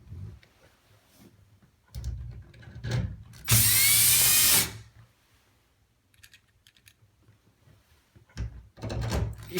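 A screwdriver or drill drives screws to secure a Pfister shower valve cartridge, giving one loud, steady whir of about a second among scattered clicks and handling knocks, close by.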